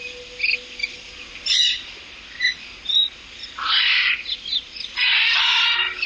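Pet birds in an aviary chirp and call, with short scattered tweets followed by longer, louder bursts of chattering song, fairly close and with no talking.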